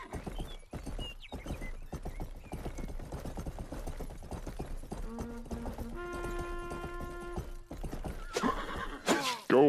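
A quick horse in the medieval video game Rustler gallops with rapid clip-clop hoofbeats throughout, then gives a loud, close neigh and whinny near the end.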